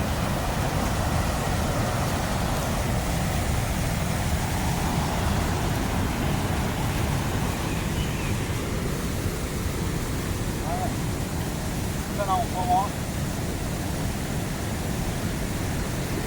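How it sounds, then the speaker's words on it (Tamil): Kurangani waterfall rushing as a steady, loud broadband roar that holds constant throughout, with faint birdlike chirps briefly above it near the end. "அருவியோட சவுண்டு"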